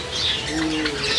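Birds in a large aviary, with pigeon-like cooing mixed with chirps and soft wing flutters, a steady moderately loud chorus with no talking.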